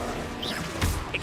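A Confringo blasting spell in Hogwarts Legacy, played on Xbox Series X, goes off with a short whooshing release and a sudden crashing impact midway, brief and fairly loud over a steady game background.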